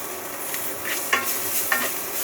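Biryani spices, bay leaf, white cardamom and cinnamon being mixed in a hot pan with a spatula, a low sizzle broken by two sharp scrapes and taps, close by and with no talking.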